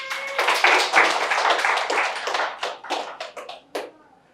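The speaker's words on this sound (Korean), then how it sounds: "박수." A small church congregation breaks into brisk hand clapping, a dense burst that thins out into a few scattered claps before it stops.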